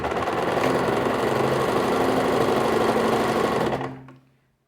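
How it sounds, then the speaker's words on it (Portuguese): A sewing machine stitches fabric in one loud, close, steady mechanical whir lasting several seconds before stopping abruptly into silence. "Agora, eu vou costurar o meu outro tecidinho"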